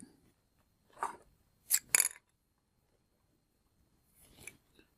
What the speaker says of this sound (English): Now just one more cut and I'll have a perfect template.